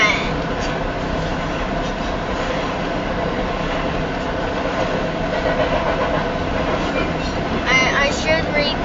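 A southbound Union Pacific stack train rolls past on the Spine Line with a steady, loud rumble and wheel clatter over rails, the sound holding close and continuous throughout.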